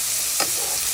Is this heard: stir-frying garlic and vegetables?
yes